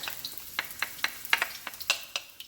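Scallions, fresh ginger paste and minced garlic in a hot wok over high heat, a faint sizzle under a quick series of spatula scrapes and taps, about a dozen in rapid rhythm.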